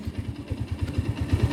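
A Honda Hornet 160R special edition motorcycle engine idles close by with a steady, even thumping pulse, loud and unbroken.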